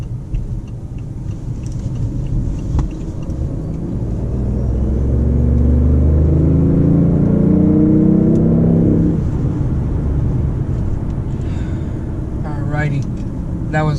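BMW i8 with a three-cylinder engine pulling at half throttle, a loud, steady rumble building from the start and swelling to a peak before easing off around nine seconds, with a person talking over it.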